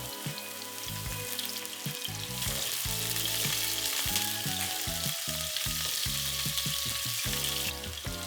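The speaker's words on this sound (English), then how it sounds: "Add the onions and sweat." Onions sweat in olive oil in a pan used for searing pork tenderloin, a dense close sizzle with a thick crackle and a steady layer of stirring and scraping, no talk.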